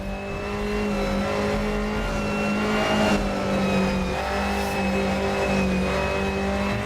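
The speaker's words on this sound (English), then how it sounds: "The engine is so loud of this car." An Alfa Romeo Giulia TZ2 race car in a racing video game on the historical Nordschleife, with a loud, steady engine drone holding high revs and shifting pitch slightly, continuous and close with no talking.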